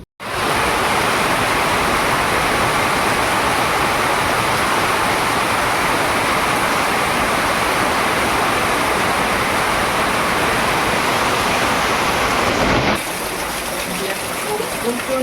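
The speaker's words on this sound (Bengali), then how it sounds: "প্রচন্ড পরিমাণে বৃষ্টি হচ্ছে, সাথে বিদ্যুৎ চমকাচ্ছে।" Heavy rain pours down in a steady, loud broadband roar during a thunderstorm, continuous throughout, with the downpour easing slightly near the end.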